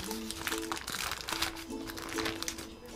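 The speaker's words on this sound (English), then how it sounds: "gently, we have to take off the parchment paper." Parchment paper being peeled from a freshly baked pandan sponge cake, a close, continuous crinkling and rustling over a quiet kitchen background with faint tones.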